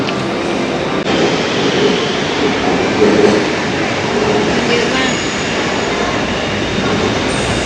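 A BTS Skytrain rumbles and hisses through a Bangkok station, a broad steady roar with faint wheel squeal and background bustle throughout.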